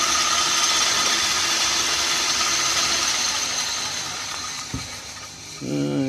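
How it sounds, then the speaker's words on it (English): A 1913 Seneca Falls lathe, about a century old, runs with a steady mechanical whir and faint ratcheting gear noise that continues alone throughout. A brief knock lands near the end. "This is 1913 Seneca Falls. It's a 100-year-old lathe that I use."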